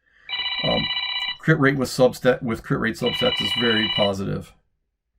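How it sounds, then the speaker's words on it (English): A phone rings with an electronic trilling tone, two separate bursts of ringing with someone talking loudly in between and overlapping the second ring. "Sorry for that phone interruption"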